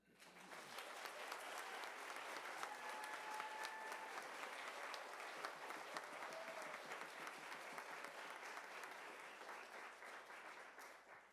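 Sustained applause from a concert audience honoring the music faculty at an emeritus benefit concert, steady dense clapping filling the hall throughout without letting up.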